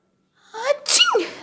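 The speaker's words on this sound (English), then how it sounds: "the correct way to sneeze is using the arm" A child sneezes once up close during a preschool lesson on cough and sneeze etiquette, a quick breathy intake followed by a loud, sharp burst, heard on its own.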